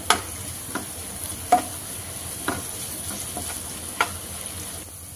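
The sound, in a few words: turmeric and ginger garlic paste frying in a pan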